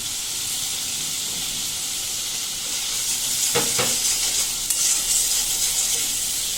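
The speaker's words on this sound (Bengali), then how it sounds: "মশলা কামড়াতে দিচ্ছি মশলা কষানো শেষ।" Spice masala with chilli powder and salt is stir-fried for rohu fish curry, giving a constant close sizzle and hiss, then a brief burst of louder scraping and spattering midway, with no talk.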